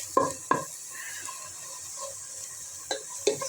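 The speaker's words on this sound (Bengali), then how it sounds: "আমি পেঁয়াজ রসুন ব্রাউন করে নেব।" Onion, garlic and green chillies fry in a pan for lentil dal, a soft sizzle broken by a few sharp clinks and scrapes of a spatula against the pan, close and without voices.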